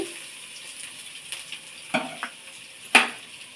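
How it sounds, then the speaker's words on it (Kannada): Curry leaves and onion frying in a pan for a masala chutney, giving a steady soft sizzle broken by a few sharp clinks and scrapes of stirring. "ಫ್ರೈ ಆಗಲಿ ಸ್ವಲ್ಪ"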